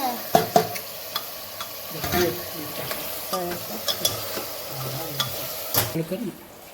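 Tomatoes fry in a pan for a village-style chicken curry, soft steady sizzle under repeated close scraping strokes of a spoon stirring against the metal, ending in quiet.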